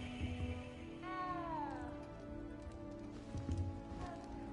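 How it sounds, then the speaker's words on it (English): Cat meowing inside the Hogwarts Legacy video game castle, one drawn-out, falling meow standing out clearly over a steady low ambient hum and soft background noise. "good luck finding that cat"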